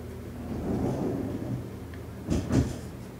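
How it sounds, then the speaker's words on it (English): The doors of a Haas vertical machining center slide open over a steady low machine-shop rumble, ending in a couple of firm sliding clunks near the end. "We're gonna open the doors up too."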